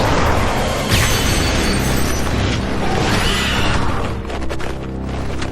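Cartoon dragon armed with rocket launchers firing, a loud dense blast and rumbling explosion that roars on with crackling debris before easing slightly.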